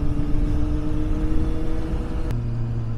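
A four-cylinder motorcycle engine revs steadily and close by, holding a sustained drone with a sharp shift in pitch near the end, with no voices.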